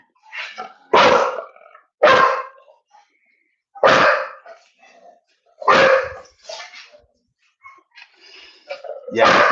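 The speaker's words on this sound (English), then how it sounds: "my dog's called Chaos because he's chaos" Dog barks close by, five or six loud, sharp barks spaced about a second or two apart, with quieter growly yips between them and a voice briefly audible.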